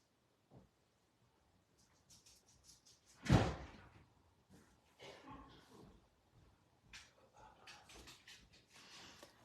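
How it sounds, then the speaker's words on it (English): A single sharp door thud stands out among quiet shuffling and handling noises, followed by faint rustling and movement. "I'm just going to shut my door"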